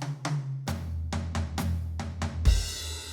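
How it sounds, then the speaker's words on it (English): Steady drum hits travel across the toms in an even pattern, lower drums booming toward the end, before a crash cymbal and kick close it out. "the combination of rhythm 1 and 2 spread across the drum set as a fill is going to sound like this."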